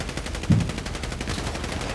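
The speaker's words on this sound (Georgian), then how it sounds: "ყველა მე მესვრის" Rapid automatic gunfire in Grand Theft Auto V, a steady stream of close, loud shots with one heavier burst near the start, continuing throughout with no voices heard.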